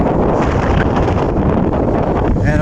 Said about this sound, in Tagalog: mahangin dito